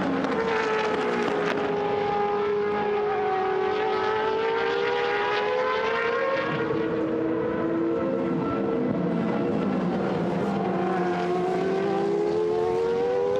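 Loud 3.5-litre V8 engines drone continuously with rising and falling pitch as Dallara Renault single-seater race cars pass close by, one after another, during a Formula V8 3.5 race at Paul Ricard, with no talking.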